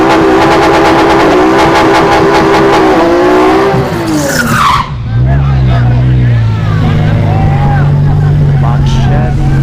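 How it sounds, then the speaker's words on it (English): Infiniti G37 at a drag strip during test-and-tune, its engine droning loud and steady, then a rising whine sweeping past, followed by a lower rumbling tone; a voice speaks over it. "Oh, here comes the G37."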